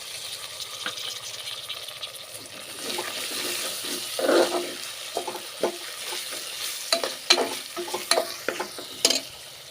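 Two medium chopped tomatoes frying with ginger garlic paste for egg biryani, a close sizzle broken by repeated scraping and stirring knocks that grow busier toward the end.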